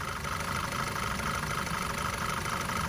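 An Audi 2.0T engine idles nearby with a cylinder 3 misfire, giving a continuous steady hum and rumble across the whole moment with no obvious stumble, no voices.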